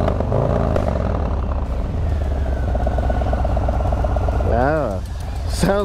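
A 2022 Harley-Davidson Low Rider S with a 2-into-1 exhaust idles with a steady, deep rumble, then gives a short throttle blip that rises and falls near the end.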